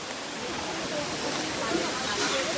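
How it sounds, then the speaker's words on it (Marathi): Monsoon waterfall at Karla fort, a steady broadband roar of rushing water filling the whole clip at constant level, with faint voices mixed in. "कसला धबधबा आहे बघा."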